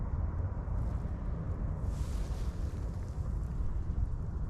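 Strong wind buffets the microphone at the water's edge during a fishing outing, a constant low rumbling roar with gusty swells, steady and close, with no voices.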